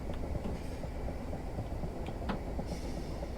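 A simulated train in Train Sim Classic on a suburban Glasgow route near Coatbridge Sunnyside rumbles steadily, with a continuous low rolling drone and faint rhythmic wheel clicks.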